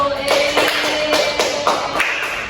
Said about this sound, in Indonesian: Oke, beri tepuk tangan dulu untuk Wisnu.